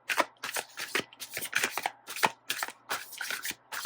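Tarot cards are riffled and shuffled in quick repeated bursts, about a dozen crisp papery flutters in close succession, close up and with no voices.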